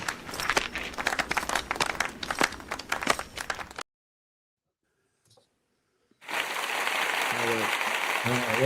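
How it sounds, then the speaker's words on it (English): Applause from a small group on a Chicago Bears football podcast, dense clapping for about four seconds, then a sudden cut to near silence before a steady hiss with a faint voice returns. "Applause."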